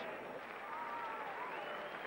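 Cheering and applause from a cricket crowd after West Indies win by five wickets, a steady distant roar of clapping and voices held at an even level throughout.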